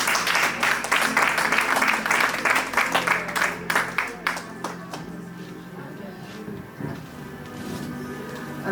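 A church congregation at a prophetic deliverance service breaks into loud, dense applause that fills the first half, then thins into scattered claps under a murmuring crowd.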